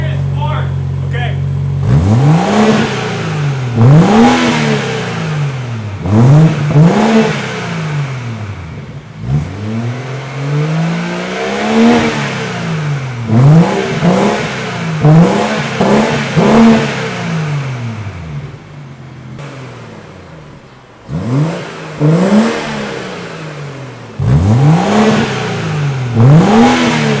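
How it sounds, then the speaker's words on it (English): A BMW F30 with a B58 engine and a muffler-deleted 4-inch exhaust revs repeatedly, each rise and fall clear and loud up close, with a few longer pulls and short pauses, while someone talks between the revs. "So what I did is I chopped off the muffler and added some amazing 4-inch"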